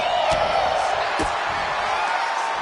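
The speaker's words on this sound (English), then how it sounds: "I think the crowd knows what's coming." A wrestling arena crowd in WWE 2K25 roars in anticipation, a steady, loud wall of cheering with a few sharp thuds from the ring cutting through.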